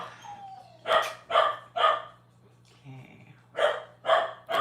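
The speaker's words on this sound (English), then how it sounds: "you hear barking in the background" A dog barks in the background of a home, giving two bursts of three sharp, fairly loud barks with a pause between them, while a person says a brief word.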